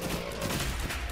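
Rapid tear shots fire in The Binding of Isaac: Afterbirth+ with the Samael mod, a dense, continuous spray of soft popping hits packed tightly together with game noise, no talking.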